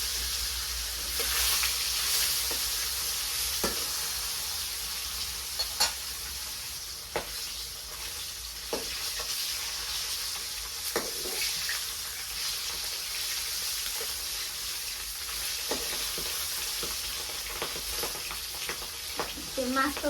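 Marinated fish sizzles steadily in a hot wok, a constant dense frying hiss with scattered crackles and pops, close by, with occasional faint voices in the background.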